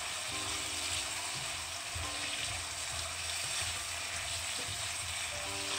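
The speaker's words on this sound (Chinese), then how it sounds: "再次翻炒均匀，使所有的食材都充分吸收调料的味道" Radish stir-fried with light and dark soy sauce, oyster sauce, salt and a little sugar crackles with a steady, close sizzle throughout, overlaid by faint scraping and clinking from a spatula turning the pieces in the pan.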